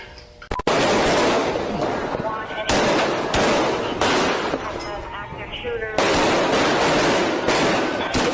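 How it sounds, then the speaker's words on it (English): Rapid bursts of gunfire crackle in dense volleys, with sharp cracks and short pauses between flurries, loud and sustained over a noisy background. "looks like an exchange of gunfire right out of a Hollywood action movie"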